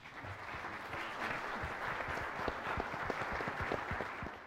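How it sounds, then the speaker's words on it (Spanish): An audience at a logic panel applauds a panelist, a sustained round of many hands clapping at moderate volume, steady throughout with no talking. "Un aplauso, por favor, para él."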